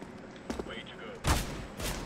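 Enemy gunfire aimed at the player in a first-person shooter: two short, sharp bursts of shots, the second louder, with a person speaking between them.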